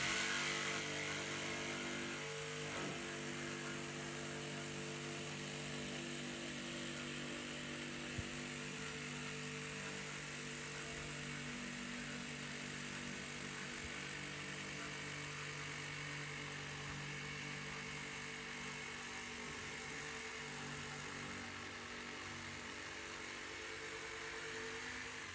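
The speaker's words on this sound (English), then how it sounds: "with a little help from our multi-tool, go in and just finish off that last little corner" An oscillating multi-tool cuts through the wood of an old orange pine dresser, a steady close buzzing whine with a constant level that runs without a break for about twenty-five seconds.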